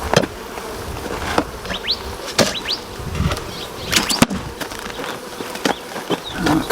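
Africanized honey bees buzz and drone steadily around an opened hive, with scattered knocks and bumps from handling the frames, close and fairly loud, no talking.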